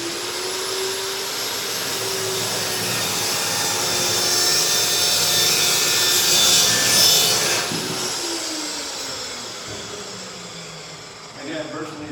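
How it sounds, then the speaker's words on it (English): A Diablo saw blade cuts through stainless steel strut with a loud, steady grinding whine that swells toward the middle and tails off as the cut finishes, leaving a brief motor wind-down. "So let's get into the strut. And then stainless steel strut. We're cutting."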